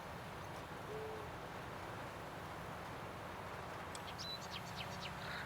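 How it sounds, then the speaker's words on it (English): Birds in the Farming Simulator 19 video game, with faint background noise and a quick cluster of high chirps toward the end. "Oh, a lot of bloody birds!"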